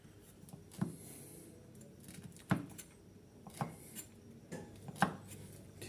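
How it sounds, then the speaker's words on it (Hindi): Knife cutting dried figs into small pieces on a board, a handful of sharp, quiet chops spaced a second or so apart over faint background noise. "अंजीरों को इस तरह काटना है"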